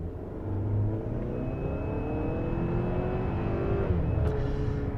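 A Chery Tiggo 8 Pro Max SUV in sport mode accelerates hard, its engine rising in a smooth climbing drone heard from inside the cabin, steady and fairly loud throughout.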